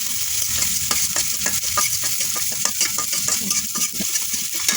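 Chopped garlic and onion frying in a pan, a steady bright sizzle with repeated scraping and clinking strokes of a spoon stirring through, close and continuous with no talk.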